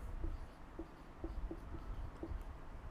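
Faint, soft taps and scratches of names being written on a board, a handful of light strokes spread irregularly over a quiet background.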